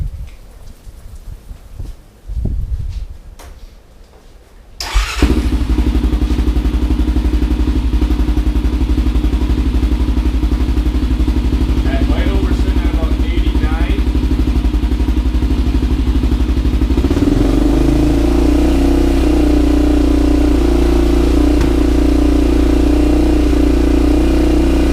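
A Honda 400ex ATV fitted with an FMF Q4 exhaust, spark arrestor removed, fires up and idles loudly at close range, then gets a throttle blip into a higher, heavier rev near the end.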